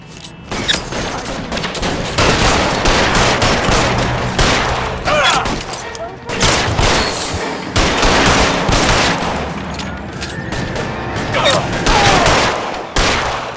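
Heavy gunfire in a shootout at the Nicholson Electroplating plant in the video game L.A. Noire: dense, continuous bursts of rapid shots and booms keep up almost without pause, loud and close throughout.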